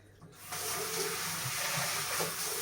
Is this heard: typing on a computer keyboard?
no